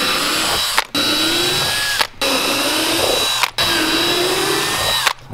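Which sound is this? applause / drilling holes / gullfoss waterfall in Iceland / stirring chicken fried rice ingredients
drilling holes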